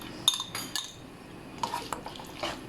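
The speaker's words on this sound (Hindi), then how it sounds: "इसे मिक्स कर लेंगे।" A spoon stirs macaroni with ketchup in a bowl, giving a few sharp clinks and scrapes against the dish spread over a couple of seconds, close and moderately loud with no talking.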